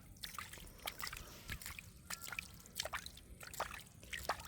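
Water is scooped and flung out by hand from a village pit while native shing catfish are being caught, making irregular close splashes and trickles at low volume.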